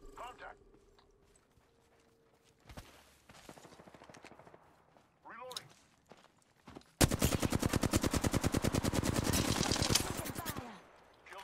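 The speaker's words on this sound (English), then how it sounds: "But this guy keeps trying to snipe me" Gunfire in the game Apex Legends during a sniper fight, a few scattered single shots giving way to a loud sustained burst of rapid automatic fire, with a voice talking over parts of it.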